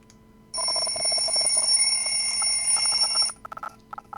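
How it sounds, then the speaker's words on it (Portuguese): A loud electronic alarm rings continuously for about three seconds in a quiet room, then cuts off, leaving a few faint clicks. "tinha deixado o alarme ligado aqui"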